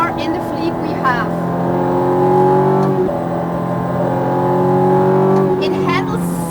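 Lamborghini Gallardo engine running loud and close on a racetrack, a steady high-revving roar with rising and falling pitch sweeps as it shifts through gears, continuous throughout.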